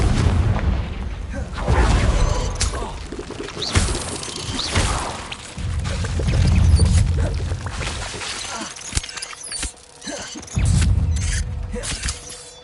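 A Confringo fire spell bursts in Hogwarts Legacy as a series of heavy, booming explosions that rise and fall over several seconds amid rumbling game effects.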